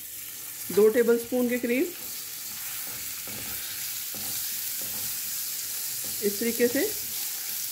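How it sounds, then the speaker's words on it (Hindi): Unsalted butter sizzles in a pan with caramelizing sugar for caramel popcorn, a soft, steady frying hiss running under a voice as she talks. "ये बटर ऐड किया है, इसके साथ साथ ही ये कैरामलाइज हो रहा है हमारा।"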